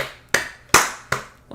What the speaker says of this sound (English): I hope that clap gets through